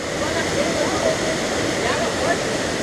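Waterfall at Cachoeira do Desterro in Cunha, São Paulo, flowing at low volume, giving a steady, continuous rushing roar of falling water heard close by throughout.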